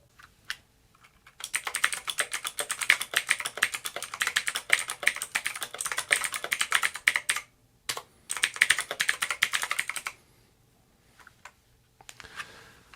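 Fast typing on a Boox Keyboard Folio, crisp close key clicks in two long bursts separated by brief pauses, then a few scattered taps near the end.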